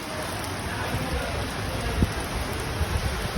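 Steady, heavy rain hisses continuously close by in Lalabazar, Sylhet, a dense even downpour with faint scattered drops standing out.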